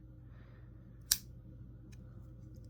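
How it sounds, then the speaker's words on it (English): Small scissors on a Victorinox Ranger pocket knife, handled close up: one crisp snip, then a fainter click, both quiet against a low background hum. "We got is a pair of scissors."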